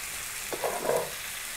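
Chicken curry sizzles in a pan while being stirred, a brief soft frying hiss with a couple of scraping stir sounds, close and quiet, without speech.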